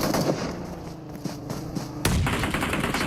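Grenade blasts in PUBG Mobile, heard as a string of sharp, loud bangs with one especially heavy burst near the end, set against constant gunfire and battlefield clatter.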